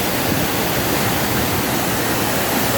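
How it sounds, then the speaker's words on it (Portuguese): A waterfall at Presidente Figueiredo in Amazonas roars with a loud, steady broadband rush of falling water. The sound is close and unbroken throughout, with no voices. "Olha só a velocidade da água da cachoeira."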